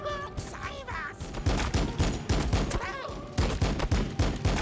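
Blessed ammunition fires in a Warhammer 40K battle game as dense, rapid volleys of loud close gunshots, with brief shrill cries in between and no talk.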